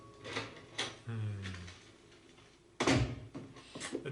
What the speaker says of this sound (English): The door kind of scared me opening.